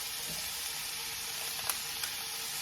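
Ground meat sizzling steadily in a single pan for a big batch of meat sauce, a close, dense hiss broken by a couple of faint scrapes as the meat is broken up.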